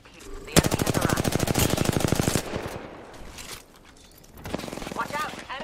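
Rapid automatic gunfire in a video game rattles loud and close in a dense burst for about two seconds, then gives way to quieter battle noise with brief voices and more scattered shots near the end.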